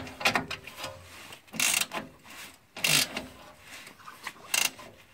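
Ratchet tightening a rear shock absorber bolt on a Mercedes C180, a few short bursts of fast clicking separated by brief pauses, close and fairly loud, with no talking.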